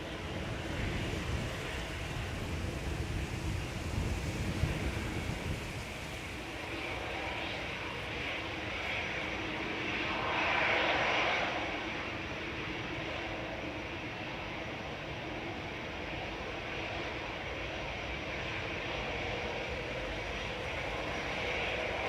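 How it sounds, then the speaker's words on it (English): A seven-year-old airliner arriving at Manchester Airport on a flight from Dubai, its engines a broad, steady roar that holds throughout at moderate distance, swelling slightly midway, with no voices. "coming in this evening with flight EK19 from Dubai, a 7-year-old aircraft"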